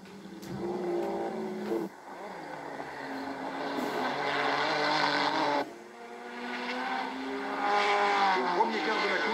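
A Mercedes race car, number 61, rejoins the track at the 1986 Le Mans 24 Hours, its engine note rising and falling in loud sustained sweeps with a brief dip, under commentary.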